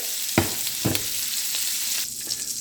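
Shrimp searing in a hot frying pan, browning on both sides: a steady, close sizzle with a few sharp spatters and clinks as the pieces are turned.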